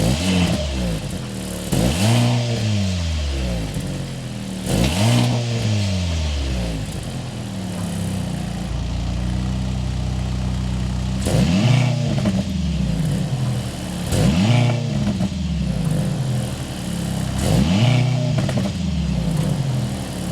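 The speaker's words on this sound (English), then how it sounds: "start it up so you can hear that exhaust note" Exhaust of a 2025 Mercedes-AMG C63 S E Performance revving repeatedly, each blip rising and falling in loud, close bursts over a steady idle, with no talking.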